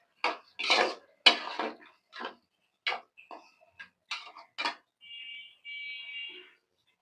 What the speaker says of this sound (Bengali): আমি এটা এবার কষাবো।